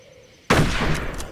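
A single sharp rifle shot bursts out after a short quiet lead-in and rings off in a brief echo, from target practice with a period firearm in the first-person shooter Darkest of Days.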